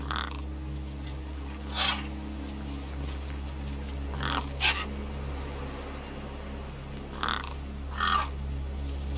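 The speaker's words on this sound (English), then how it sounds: "The gang birds were eyeing up the corpse hungrily." Gang birds in the video game Beyond a Steel Sky give short, harsh cawing calls a few seconds apart over a steady low ambient hum.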